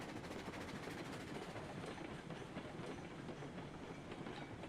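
A coal-powered steam locomotive in the Railroads Online game runs fast along the track, giving a steady, dense rumble with rapid clickety-clack of wheels over rail joints throughout.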